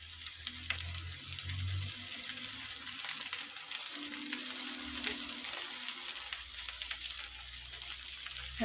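Cut okra cooks in a pan, a soft, low sizzle with faint crackling and an occasional scrape of stirring, quiet and steady, with no talking.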